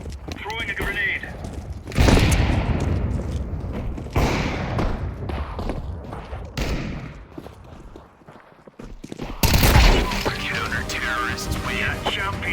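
Counter-Strike 2 match: booming grenade blasts and bursts of gunfire crack over footsteps and a busy in-game background, with game voices calling out across the fight.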